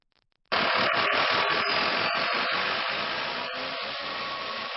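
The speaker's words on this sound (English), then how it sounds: "rev the engine to full throttle" A tractor engine starts up abruptly and holds at a steady high roar at full throttle, with a boom flail mower's mechanical clatter and rhythmic knocking running underneath.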